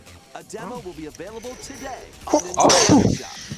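A loud, close sneeze bursts out near the end, following a stretch of steady narration and then answered by talk in a casual reaction setting.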